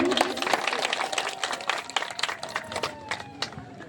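Audience applause at an annual gathering of an artists' association in Telkoi, a broad wash of clapping that runs steadily throughout, with voices mixed into the crowd noise.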